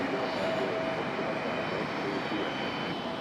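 An Icelandair Boeing 737 MAX 9 comes in to land at Raleigh-Durham, its steady jet engine whine and rushing roar briefly close and constant, with no talk over it.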